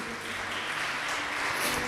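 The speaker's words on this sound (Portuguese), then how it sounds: "Vamos aplaudi-lo por isso?" A church congregation applauds briefly after a sermon, a steady wash of clapping at moderate level with no voices over it.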